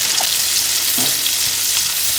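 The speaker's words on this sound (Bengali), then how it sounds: "রসুন কুচিয়ে রেখেছি সেটাকে দিয়ে দেবো, কাঁচা লঙ্কা কুচি একসাথে একটুখানি ভাজা ভাজা করা হবে" Chopped garlic, green chilli and spring onion fry in a wok with a loud, steady hiss of hot oil, a few faint stirring clinks breaking through.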